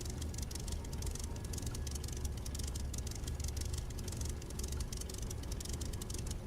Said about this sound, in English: I'm just seeing my engine noise.